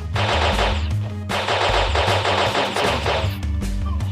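A nail gun fires in the video game Block City Wars, a loud, continuous rapid burst of shots with brief gaps, heard alone over game sounds.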